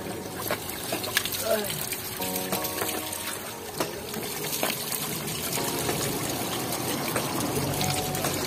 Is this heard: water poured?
yes